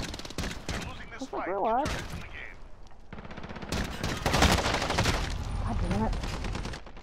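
Rapid automatic gunfire in Call of Duty: Modern Warfare multiplayer, loud bursts crackling through most of the stretch under excited, cursing voices of players talking over it.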